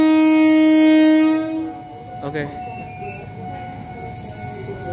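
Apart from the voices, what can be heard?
electric commuter train departing station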